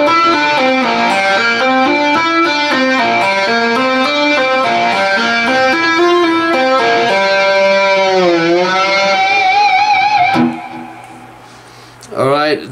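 An electric guitar plays a fast tapping lick, a rapid cascade of bright legato notes with slides and a wavering bend near the end, loud and continuous before it drops off.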